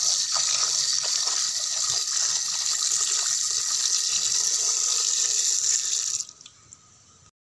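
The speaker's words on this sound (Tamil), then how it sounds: "இப்போ ஊற வச்ச முட்டைக்கோஸை 4-5 ட்ரிப் நல்லா கழுவிக்கணும்." Soaked cabbage being rinsed under a running tap, a steady broad gush of water splashing for about six seconds before the flow cuts off abruptly.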